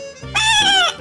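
A goat in the video game Wobbly Life lets out one loud, wavering bleat lasting about half a second, with a low game hum before and after it.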